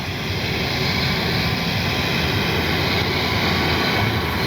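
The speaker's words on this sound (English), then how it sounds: "Good looking little plane. Good flying little jet." A small jet engine of a radio-controlled L-39 model jet roars steadily and continuously in flight, a loud, even whine with no pauses or voices.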